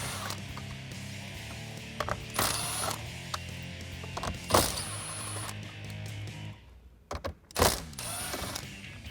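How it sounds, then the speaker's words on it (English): Screws being backed out with a 7mm socket from a Jeep Wrangler JL head unit, close metallic ratcheting and clicking with clunks and rattles of parts, in a quiet cabin without talk. "So we can take that 7mm socket again and remove those."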